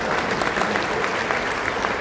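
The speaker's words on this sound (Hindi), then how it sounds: "बात अच्छी लगे तो ताली बजाना।" Steady, dense applause from an audience at a mushaira poetry gathering in Bahrain, a loud continuous wash of many hands clapping with no pauses.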